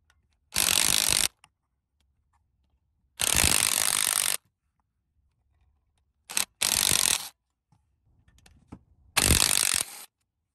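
A hand ratchet loosens bolts on an engine's cylinder head area while valve springs are removed, giving four bursts of rapid clicking, each about a second long, close by, with quiet gaps between.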